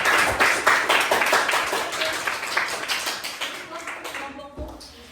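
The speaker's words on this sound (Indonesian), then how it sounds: "Silakan berikan tepuk tangan dulu." A small class claps for a student group after their presentation, quick close-up handclaps in a brisk rhythm that gradually slow and thin out toward the end.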